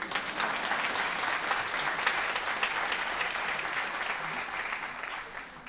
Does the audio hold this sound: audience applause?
yes